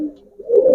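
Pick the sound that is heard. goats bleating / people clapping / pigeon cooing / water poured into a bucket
pigeon cooing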